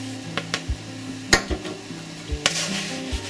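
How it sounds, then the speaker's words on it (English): Granulated sugar stirred into an elderflower champagne mixture in a pot, giving scattered scraping clinks and soft swishes in an irregular rhythm, close and moderately quiet. "So I'm going to add this in and stir it up."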